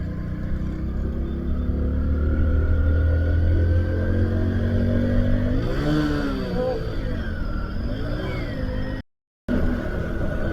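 A motorcycle ridden on a rainy road gives a loud, close, steady engine drone, with two rising revs midway and a brief dropout near the end.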